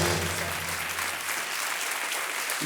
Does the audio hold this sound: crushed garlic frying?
no